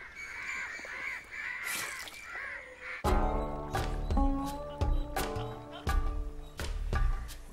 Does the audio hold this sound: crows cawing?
yes